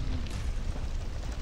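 Explosion in the video game Fallout 4, explored in survival mode around a swamp: a dense, sustained low rumble with a burst near the start, steady and loud throughout, no voices.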